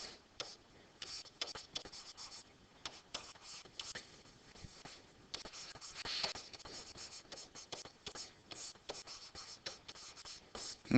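Pen writing math expressions by hand, soft irregular scratches and taps in short bursts, quiet and close, with brief pauses between strokes.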